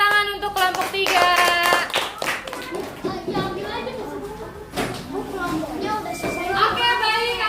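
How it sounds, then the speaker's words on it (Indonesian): Students in a classroom applaud a presenting group, a lively burst of clapping from many hands under overlapping children's voices and chatter, rising and falling over several seconds. "Beri tepuk tangan untuk kelompok 3."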